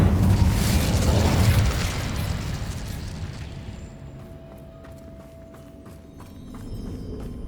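An Incendio fire spell is cast in Hogwarts Legacy, giving a loud, broad burst of flame that roars for over a second and then fades into a quieter crackling tail amid game ambience.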